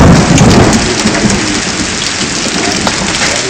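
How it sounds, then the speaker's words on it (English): Hail and heavy rain pound a surface outdoors during a June thunderstorm in Texas, loud and continuous, with a dense roar that stays steady and close throughout. "It's still hailing. It stopped and it started again."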